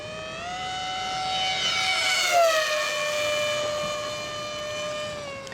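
A Ritewing Mini Drak RC plane flies with a steady, high electric-motor whine. The pitch drops slightly midway as it passes, and the sound stays continuous and moderately loud with no voices.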